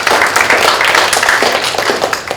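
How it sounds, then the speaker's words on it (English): Applause from a meeting audience fills the room, a steady, dense patter of many hands clapping at close range and fading slightly toward the end. "Another round of applause for everyone."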